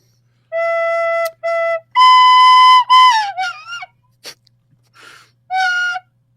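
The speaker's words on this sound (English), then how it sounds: "this is not a recorder; it's a tin whistle" A tin whistle plays a few sustained notes, one long held tone bending downward, then a wobbling trill-like flourish and a final short note, loud and close with no talk.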